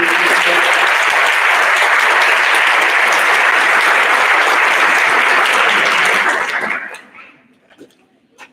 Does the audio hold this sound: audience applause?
yes